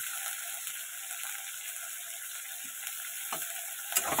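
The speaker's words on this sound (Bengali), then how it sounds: "এটাকে ভালো একটু ভাজা করবো।" Slit green chillies fry in a pan with a faint, steady sizzle and hiss, broken near the end by a couple of soft clinks of stirring.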